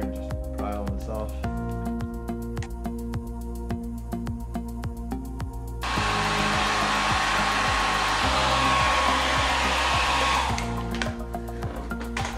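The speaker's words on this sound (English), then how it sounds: "I'll take the hairdryer, we'll heat up the area here" A hair dryer heating the trunk area of a BMW M4 switches on partway through and blows with a loud, steady roar, layered over a faint background hum and occasional clicks.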